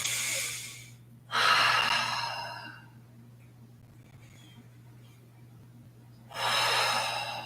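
Close, deliberate breaths held in a yoga crescent lunge: three full breaths in slow succession with quiet gaps between them, over a steady low hum.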